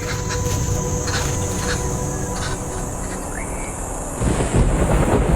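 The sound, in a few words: thunder in the distant sky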